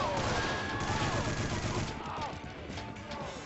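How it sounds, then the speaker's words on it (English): Rapid bursts of gunfire from the PS2 game State of Emergency in chaos mode crackle loudly, dense overlapping shots rattling on for a few seconds before easing slightly. "You shoot indiscriminately."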